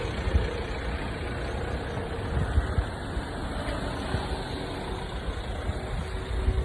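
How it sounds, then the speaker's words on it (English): Street traffic in an Italian town, with car engines idling: a steady, low, rumbling drone that holds evenly for several seconds, with no voices. "just to give you guys an idea of the traffic here"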